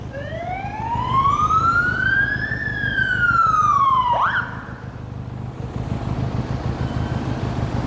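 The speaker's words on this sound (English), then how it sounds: "An ambulance come in. Ambulance!" An emergency siren wails loudly and up close in traffic, giving one long rising and falling sweep that cuts off abruptly. A low engine rumble continues underneath once the siren stops.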